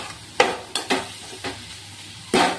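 Cabbage and potatoes with spices sizzle in a pan as a spatula scrapes through them in a few distinct, separated strokes over a low, steady frying hiss, heard up close and without voices.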